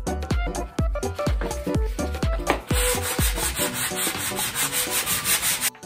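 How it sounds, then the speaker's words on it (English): A 220-grit sanding block rubs back and forth over the wood top of a dresser between coats of satin top coat, making a loud, close, rhythmic scratching with quick regular strokes throughout. "I'm using a 220 grit sanding block to sand after my top coat"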